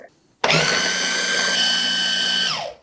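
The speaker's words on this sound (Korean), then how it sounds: "여기다가 그대로 풀국을 넣어서 같이 갈아줄게요." A blender roars to life and grinds garlic with potato starch porridge, starting abruptly after a quiet moment and running loud and steady at close range for about two seconds before winding down.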